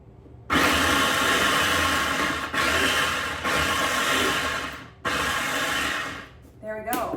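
Small electric food chopper whirring through an onion in a loud, steady buzz, cut into several pulses with short gaps between bursts, close to the microphone.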